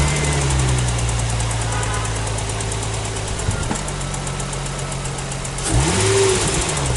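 An Infiniti car engine runs on its stock intake with a steady, close idle hum, then gives a brief rev that rises and falls near the end.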